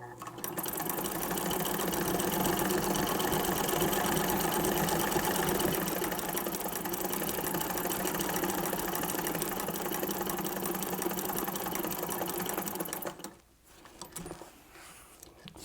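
A vintage Singer sewing machine fitted with a two-thread embroidery attachment runs continuously for about thirteen seconds with a fast, even whir, then stops, leaving a few faint clicks.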